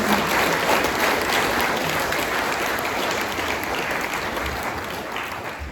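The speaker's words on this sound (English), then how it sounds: "If we could give Dean a wonderful round of applause for some awesome job." Sustained, loud applause from a workshop audience after a flood risk presentation, steady clapping filling the whole stretch without pause.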